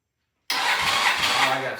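A Norton motorcycle engine, the black bike on its first start, is spun over with a sudden loud onset. A steady, rough mechanical whir follows for over a second, close and continuous.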